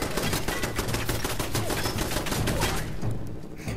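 Rapid gunfire from a powerful new weapon in Fallout 4, a dense stream of loud shots that keeps going throughout before tapering off slightly at the end.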